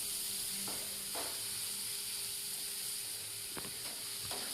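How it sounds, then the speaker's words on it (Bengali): Chopped onions fry in a pan for a home-style soybean curry, giving a steady close sizzle and hiss with a few sharp scrapes as a spatula stirs them. "এবার খুন্তি দিয়ে ভালোভাবে পেঁয়াজগুলোকে ভাজা ভাজা করে ভাজতে হবে।"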